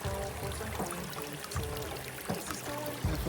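A small creek pours and gurgles steadily beside a gold sluice setup, close and continuous with soft splashing pulses and no talking.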